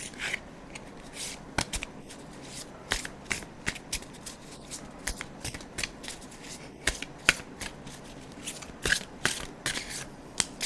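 Tarot cards are shuffled up close in a quiet room, making repeated crisp riffles and soft slaps in an uneven rhythm for the whole stretch, with no talking.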